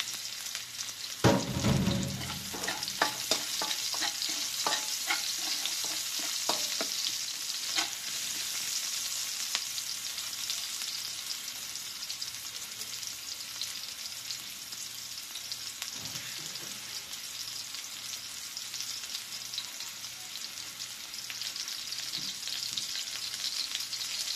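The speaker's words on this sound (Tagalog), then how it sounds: "Lagay po natin yung sibuyas." Chopped onion hits a hot pan with garlic and fries with a steady, close sizzle. A burst of stirring clatter comes early, then the hiss continues evenly with occasional scraping. No voices are heard.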